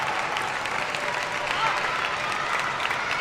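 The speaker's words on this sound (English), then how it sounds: "Crowd getting mad." Spectators at a table tennis men's team match at the Asian Championships react with a sustained, loud wash of crowd noise and clapping that holds steady throughout.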